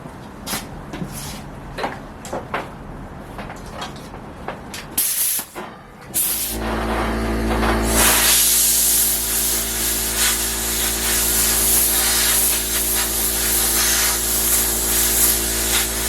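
Compressed air blasted over sanded wood to clear dust from the grain, a loud continuous hiss starting after a few seconds of clicks and handling noises, then holding steady.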